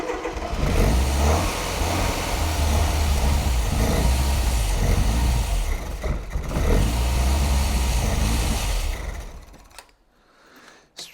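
An old fast Ford barn find, unrun for about 20 years, running without throttle: a loud, steady rumbling engine for about nine seconds that then fades and dies away, with no talking.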